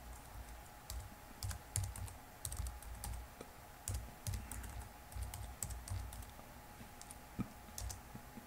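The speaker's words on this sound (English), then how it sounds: "So what I'm going to type in is I'm going to type in mount" Quiet, rapid keystrokes patter on a computer keyboard as a mount command is entered in a Linux terminal, the clicks arriving in short uneven bursts with small pauses between words.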